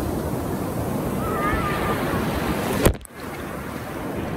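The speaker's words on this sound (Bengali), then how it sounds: "সৈকতে আশ্রে পড়া বিশাল বিশাল ঢেউ।" Large ocean waves break steadily on Cox's Bazar beach in Bangladesh, a continuous loud surf roar mixed with wind buffeting the microphone and a brief dip near the end.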